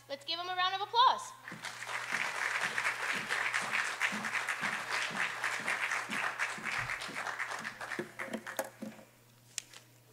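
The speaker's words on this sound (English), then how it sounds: "Let's give them a round of applause." An audience at the Silver Awards 2023 ceremony applauds the Silver Award winners with steady, moderately loud clapping, after a short voice at the start, while a low hum runs underneath.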